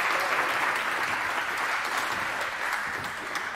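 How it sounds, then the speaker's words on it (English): Steady applause from a crowd, dense and continuous clapping throughout with no voices standing out. "please welcome, with a very warm round of applause, Eleanor"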